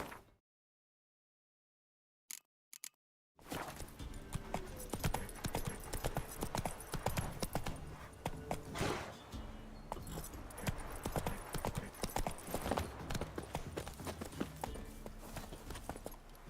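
Roach, the horse in The Witcher 3, gallops after a brief silence and a couple of short bursts, its rapid clip-clop hoofbeats running continuously and close up with game sound around them.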